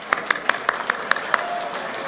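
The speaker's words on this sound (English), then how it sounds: "Let's give a huge round of applause to everyone in the room tonight." Scattered applause from the audience at the close of a curry industry awards ceremony, about seven distinct claps spaced roughly evenly, moderately loud in a room with low background murmur.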